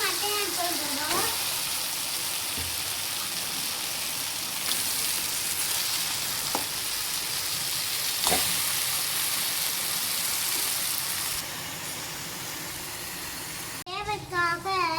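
Mutton pieces frying in hot separated oil in a pan for mutton sukka give a steady, close, broadband sizzle with occasional louder spits and stirring scrapes throughout.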